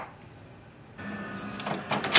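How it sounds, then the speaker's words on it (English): An HP DeskJet 4152e printer powers on after a quiet pause, starting with a low mechanical hum and then whirring and clicking as its carriage moves, with a few sharper clunks near the end. "Switch on the printer,"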